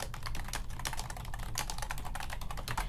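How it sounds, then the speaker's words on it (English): Steady, rapid typing on a computer keyboard, dense overlapping key clicks at close range with no talk. "I could start typing after here and introduce myself here."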